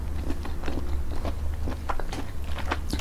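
Crunchy chewing of boiled sweet bolete mushrooms (hed phueng) seasoned with fish sauce, with close, repeated bites and crackly crunches throughout and no talking.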